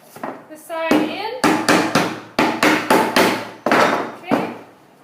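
Hammer blows knock a wooden beehive frame side into place, loud and close, in irregular clusters of about nine sharp wooden strikes, with a brief voice at the start.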